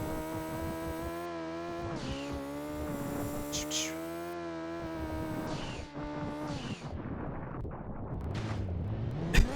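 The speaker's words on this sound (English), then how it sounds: "I love that, just the dirt noise." Rally car sliding on dirt in Gran Turismo 2, a loud harmonic engine note holding and shifting pitch across gear changes, with gritty crunching surface noise rising toward the end.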